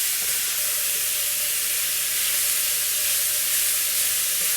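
Ground beef for chili beans sizzling in a skillet, a steady bright hiss that holds evenly throughout, close and fairly loud with no talking.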